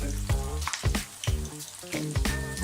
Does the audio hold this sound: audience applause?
no